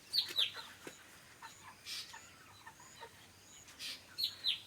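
Native country chickens on a poultry farm call from inside a shed, with a few short, fairly faint clucks and chirpy calls spread across a quiet background.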